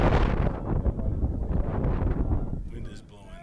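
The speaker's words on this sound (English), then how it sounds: "Wind is blowing right in on the press box right now." Wind gusts buffet the microphone in a press box at a varsity lacrosse game against Medina, a dense, loud low rumble that fills most of the clip and eases off near the end.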